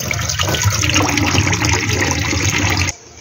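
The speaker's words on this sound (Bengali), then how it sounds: "তো এই বাসন টাসনগুলো ধুয়ে নিলাম" Dishes are washed under a running tap, a close, steady gush and splash of water that stops abruptly near the end, leaving quiet.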